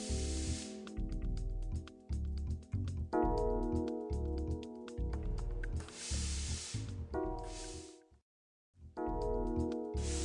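A Laurastar S7 professional iron, its steam worked by hand with the steam button, lets out several loud hissing bursts of steam, each lasting about a second, over steady background music that drops out briefly.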